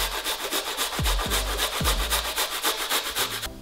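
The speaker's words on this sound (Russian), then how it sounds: "Всю головку чеснока отправляю через мелкую терку." A whole head of garlic rasped on a fine grater, steady rhythmic scraping strokes close up, repeated quickly and evenly with a few soft knocks in between.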